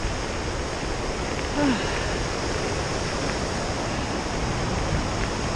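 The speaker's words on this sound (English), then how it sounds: "Pretty ride through here with the river beside me." A river runs beside a mountain bike trail in the Jungfrau region of the Swiss Alps, its steady broadband rushing filling the whole clip at an even level, with no talk and one faint brief tonal chirp partway through.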